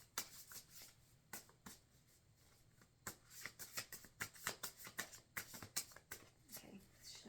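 A deck of cards being shuffled close up, a quiet run of crisp riffling snaps and flutters that grow busier and more rapid toward the end.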